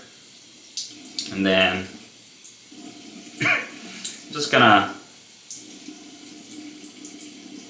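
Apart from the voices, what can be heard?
running tap water wetting a straight razor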